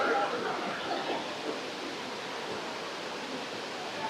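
Water pours continuously at Bamni Falls, a steady, broad rushing roar that stays even and fairly distant, with no speech.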